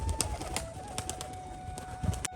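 Rajshahi pigeons released outdoors on a sunny day give soft, low cooing calls, a few brief murmurs near the start and again toward the end, over steady outdoor background noise.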